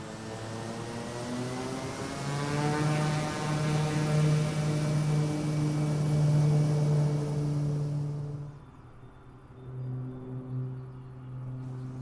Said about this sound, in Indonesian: kita udah lepas landas menggunakan pesawat Kodiak 100